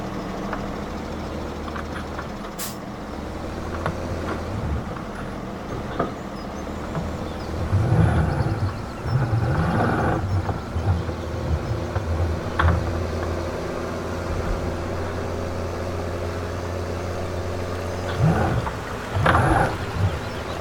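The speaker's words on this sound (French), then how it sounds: "j'entends le tracteur derrière moi" A farm tractor engine runs steadily behind the listener at a pig farm, a continuous low rumble with occasional louder surges and clanks rising through the clip.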